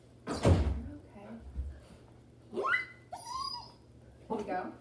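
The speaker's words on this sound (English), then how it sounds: "It's called a loud dog." Dog whimpering nearby indoors, several short rising whines and yelps scattered between thumps and a door-like knock, fairly faint against room noise.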